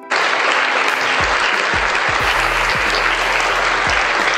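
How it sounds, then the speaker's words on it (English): Loud, sustained applause from a crowd celebrating a console game giveaway winner, dense clapping filling the whole stretch with a few voices faintly under it. "Give that man a round of applause."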